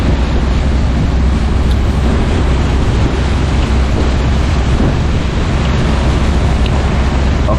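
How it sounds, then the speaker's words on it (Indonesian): Strong cold wind roars steadily on the outer deck of a slow, crowded passenger boat on a river trip from Samarinda, a loud continuous blustery rush buffeting the microphone, with engine and water rumble beneath. "Ini di luar benar-benar anginnya dingin banget."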